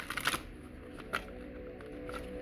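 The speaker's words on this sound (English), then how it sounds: "It's already shuffled one more time in front of you." Tarot cards riffled and shuffled close by in a quiet room, a few quick bursts of papery flutter near the start and another brief snap a moment later, no voices.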